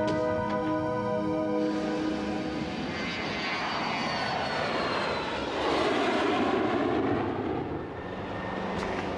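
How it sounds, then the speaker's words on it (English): A fixed-wing aircraft's engines roar loudly and steadily as it takes off, the tone rising and sweeping over several seconds, with no voices. "Get this aircraft off the ground now."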